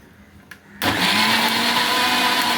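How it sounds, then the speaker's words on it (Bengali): After a brief quiet moment, an electric mixer grinder kicks in and whirs loudly and steadily, close by, blending mango, milk and sugar into a puree for homemade ice cream. "চিনিটা গুঁড়ো করে দিলেই ভালো, বা এখানে মিক্সার গ্রাইন্ডারে গুঁড়ো হয়ে যাবে।"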